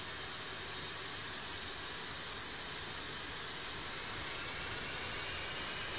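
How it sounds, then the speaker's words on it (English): An F-5 jet engine spools up in DCS World, a steady, broadband roar and whine that holds at constant, fairly faint level throughout with no speech. "I'm going to push the engine start."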